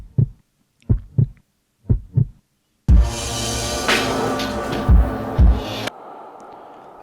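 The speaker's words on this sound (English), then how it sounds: "So it'll have just the heartbeat" A sampled heartbeat in a Halloween beat plays alone first as soft paired thumps, four double beats. A dense, loud musical pattern with bass then enters, and the heartbeat pulses continue underneath before the music cuts to a quieter tail.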